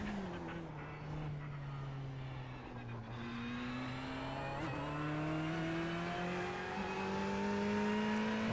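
A race car engine in the video game iRacing at Long Beach drones steadily, its pitch climbing smoothly through gears with a brief dip near the middle, sustained and fairly even in loudness without talk.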